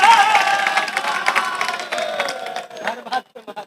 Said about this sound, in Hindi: आप अपने लिए एक बार ताली बजा लीजिए।